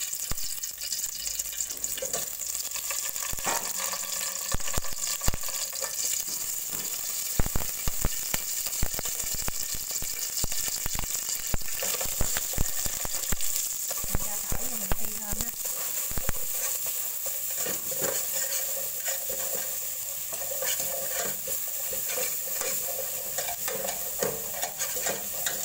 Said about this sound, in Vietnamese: Chế khóm chế thơm mình bằm nhuyễn mình cho vào mình xào.